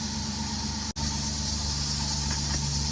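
A car engine idles steadily after a coil replacement, with a low, even hum and a single brief dropout near the start. No one speaks.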